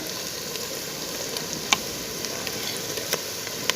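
Tomatoes and green chillies frying with garlic and ginger in a pan for restaurant-style chicken korma, giving a steady close sizzle with occasional sharp ticks and stirring clicks.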